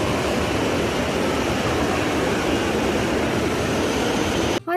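A crowded water park fills the air with a loud, dense, constant wash of splashing water and crowd noise heard from up close, unbroken until a brief dropout at the very end.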